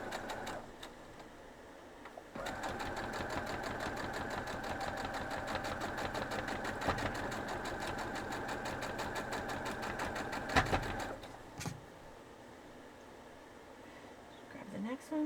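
Sewing machine stitching quilt block pieces, a steady fast mechanical whir that runs for several seconds at close range, then stops, with a few clicks and handling noises around it.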